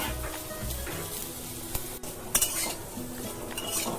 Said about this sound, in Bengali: আলু ফ্রাই অলমোস্ট হয়ে গেছে